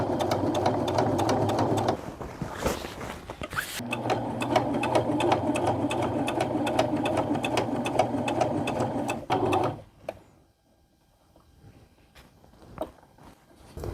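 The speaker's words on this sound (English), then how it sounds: "I am going to sew down this a ways" A sewing machine runs steadily while sewing a Walkaway Dress, a close, even mechanical whir with a brief stop near the start, then it cuts off, leaving quiet handling noises.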